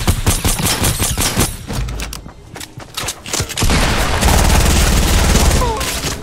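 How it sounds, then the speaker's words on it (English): Rocket launcher fire and gunfire ring out in a Fortnite Team Rumble match. Loud bursts and booms come in rapid, dense volleys, and a voice talks over parts of the action. "There's this guy with the rocket launcher again."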